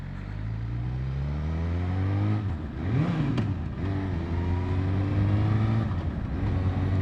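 A motorcycle engine revs up and settles while the rider shifts through the gears, blipping the throttle on each downshift. The steady drone rises and falls in pitch with a sharp rev peak, loud and close, with no talking.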